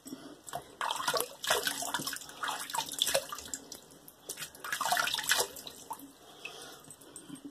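Hot water runs from a tap to re-wet a synthetic shaving brush, a steady splashing stream that swells and eases, fairly close and moderately quiet, with no one talking.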